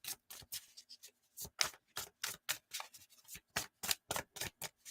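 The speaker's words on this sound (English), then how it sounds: "Let's give it a good old shuffle." Tarot cards being shuffled by hand, a rapid run of crisp papery riffles and slaps in close succession, near and fairly quiet, with no talking.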